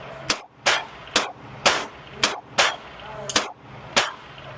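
Pistol shots fired one after another on a shooting test, seven sharp loud reports at a steady, unhurried rhythm of roughly one every half second, each with a short ringing tail.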